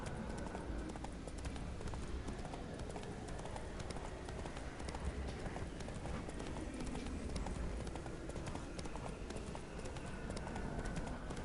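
Horse hooves gallop steadily in The Witcher 3 video game, a continuous rapid clip-clop at close range under dense ambient game sound, with no pauses.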